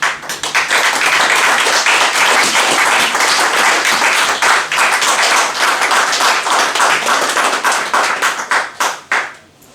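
A church congregation claps and applauds loudly and continuously in dense, rapid claps, with a few voices mixed in, before the applause thins out and fades near the end.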